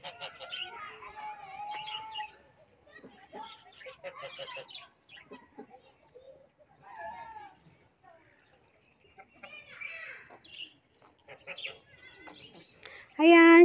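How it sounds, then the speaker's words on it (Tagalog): Ducks and other birds at a park call in scattered quacks, clucks and chirps at moderate distance while a person talks intermittently over them, ending in a sudden loud burst. "mga pato, mga. Ang ganda. Diyan, mga ibon."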